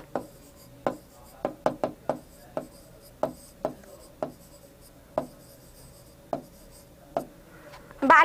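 Pen on paper during a handwritten lesson: a run of separate, crisp scratching strokes at an uneven pace, close and clear, with a brief rustle at the end.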